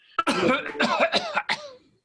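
A voice produces a rough, drawn-out cough, broken into several harsh bursts within a couple of seconds.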